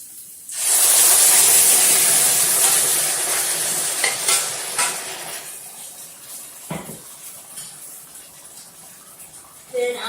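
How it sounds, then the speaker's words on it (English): Sauce is poured into a hot pan holding cooked chicken and hits with a loud, bright sizzle that starts abruptly and slowly settles into a steady hiss, with a few clinks of a utensil. "So I'm going to pour in the sauce."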